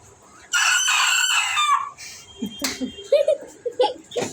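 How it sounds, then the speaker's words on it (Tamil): A rooster crows loudly and close by in a long, harmonic call, followed by softer clucks and chuckling sounds from the fowl. "கோழி கூவுறத வீடியோ எடுக்க சொன்னாங்க."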